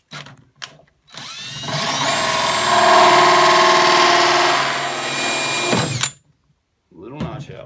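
Power tool cutting a notch into the rim of a plastic reservoir, one sustained loud grinding whir of about four seconds that stops abruptly, with brief handling noises before and after.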